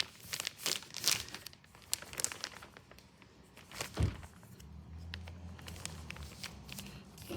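Plastic sleeve is wrapped around a drain pipe packer for pipe lining, producing close crinkling and crackling with irregular bursts, a few soft thunks and handling noises, fairly quiet.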